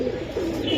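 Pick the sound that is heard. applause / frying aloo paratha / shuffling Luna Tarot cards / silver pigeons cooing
silver pigeons cooing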